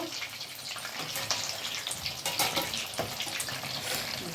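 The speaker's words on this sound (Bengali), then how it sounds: "দেখুন এই চিকেনগুলোকে আমি উল্টে দিচ্ছি, উল্টে উল্টে ভেজে নেব।" Chicken pieces for chilli chicken spit and crackle in hot oil as they are flipped, a busy sizzle broken by sharp pops and bursts close by.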